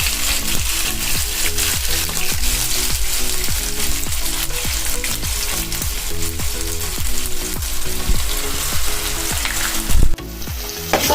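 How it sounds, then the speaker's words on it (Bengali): Onion paste frying in hot oil with bay leaf and dried chilli for Kolkata-style biryani, a loud steady sizzle with regular rhythmic stirring scrapes and a brief clatter near the end, no talk. "এবার আমি পেঁয়াজ বাটাটা দিয়ে দেবো।"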